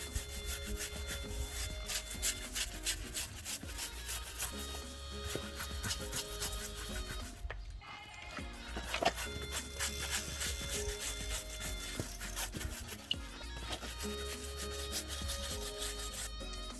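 A brush scrubbing the sidewall of a tire on an Audi RS3, continuous close rhythmic rubbing and scraping with a brief pause midway, no voices.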